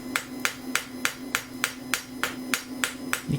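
A ball peen hammer strikes a stainless steel spoon being shaped, ringing out in about a dozen sharp, evenly spaced metallic taps at a steady rhythm, close and clear with no talk.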